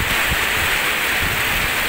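Heavy rain pours steadily near a roof during strong wind, a loud, continuous wash of noise with no talk.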